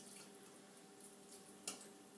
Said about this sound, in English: So right now I have 1 cup of apple cider vinegar. I'm going to pour half of this on here